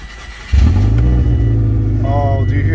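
A used car at an auction starts up and idles with a low, steady engine rumble and a faint transmission whine, loud and close after a quiet opening, while a person talks over it.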